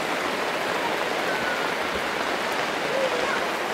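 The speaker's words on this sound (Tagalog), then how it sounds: "Pasensya na po kayo at medyo malakas po yung ulan" Heavy rain pours steadily in a dense, continuous hiss, loud and unbroken throughout with no other sounds standing out.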